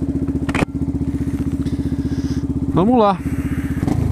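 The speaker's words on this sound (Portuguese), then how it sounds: "vamos ligar a moto e sair pro rolê" A Yamaha Fazer 250 motorcycle idles close by with a steady rhythmic single-cylinder thump, a brief clatter early on, then a short rising revving whine before settling back to a loud chugging idle; someone speaks briefly.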